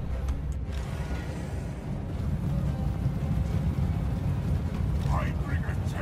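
A tempest storm spell in Total War: Warhammer, steady rumbling wind and thunder-like roar, with a person talking over it.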